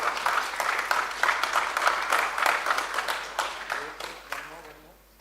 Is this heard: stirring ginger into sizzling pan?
no